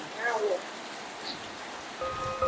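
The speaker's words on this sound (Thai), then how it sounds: "ฝนตกแล้ว" Rain falls as a steady, even hiss of drops, fairly close, while people talk faintly nearby.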